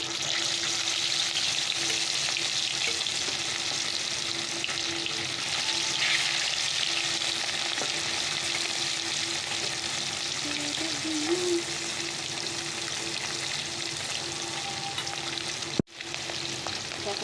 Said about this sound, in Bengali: চলো মাছগুলো ভেজে নিই